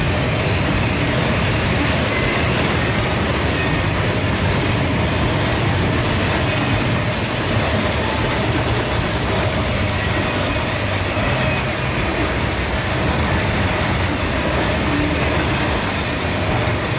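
HO scale model trains run steadily on a hobby layout, making a continuous rumbling whir with no breaks or talk throughout.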